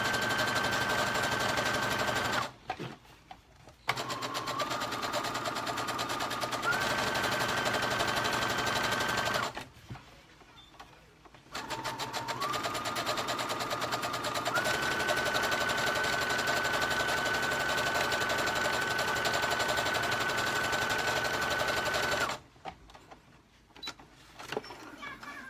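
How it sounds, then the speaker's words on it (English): Sewing machine running a long gathering stitch down the edge of a bodice, its motor whirring steadily in long runs broken by short pauses. "I'm just going to sew a gathering stitch all down that edge"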